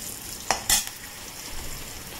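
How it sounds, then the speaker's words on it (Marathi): Green chili, curry leaves and cumin sautéing in a pan, with a couple of quick stirring scrapes and a brief burst of sizzle over a faint, steady frying hiss. "हिरवी मिरची, कढीपत्ता ॲड केल्यानंतर आणि जिरे ॲड केल्यानंतर थोडं आपण याला परतून घेऊयात"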